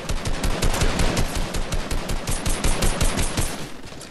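Dense rapid gunfire from a fight in Fortnite, near, loud bursts of automatic fire overlapping continuously with no pauses.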